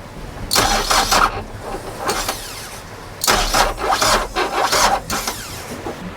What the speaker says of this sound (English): So Stefan can start the motor